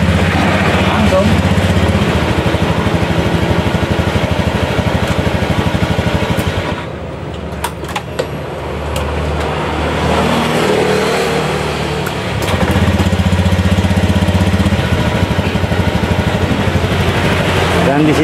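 A motorcycle engine running steadily after its battery was installed, a loud close idle that dips for a few seconds and then picks back up, with a voice talking over it.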